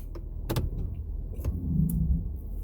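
A 2019 Ford F250 XLT Powerstroke diesel 4x4 crew cab driving without a trailer, heard as a low, steady cabin rumble with a few faint clicks and knocks.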